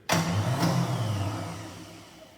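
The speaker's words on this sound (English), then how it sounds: "let's start it up and see what it's like under normal engine speed here" Car engine fitted with a Hall sensor distributor cranks and starts, then runs at a steady, fairly loud idle with a low mid-pitched hum that eases slightly over a couple of seconds.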